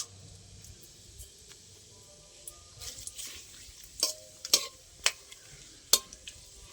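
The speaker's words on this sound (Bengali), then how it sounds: "তেল গরম হয়ে গেছে, ফোড়নে দেবো গোটা গরম মশলা, এলাচ, দারচিনি আর লবঙ্গ।" Whole garam masala, cardamom, cinnamon, cloves and two bay leaves crackle softly in hot mustard oil, a faint steady sizzle broken by several sharp utensil clinks as the spices are stirred. No one speaks.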